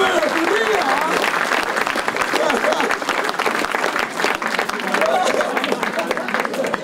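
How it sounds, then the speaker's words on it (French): Steady, dense applause from a crowd greeting the SSV race winner on the podium at the Plaines et Vallées 2017 rally, loud and continuous with scattered voices mixed in. "Vous pouvez l'applaudir"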